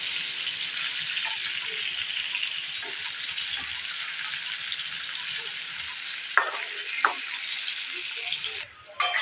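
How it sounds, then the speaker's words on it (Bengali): Pointed gourd (potol) pieces fry in a pan with a strong, steady sizzle, and a couple of sharp clinks as they are turned and stirred. "এরকমভাবে উল্টে পাল্টে কিন্তু আমি পটলগুলোকে ভালো করে ভেজে নেবো"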